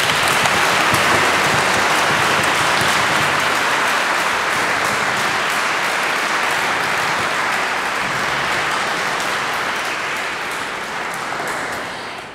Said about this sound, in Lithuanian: jūs savo aplodismentais, kurių tikiu šį vakar bus daugybė, pasveikintumėte kompozitorių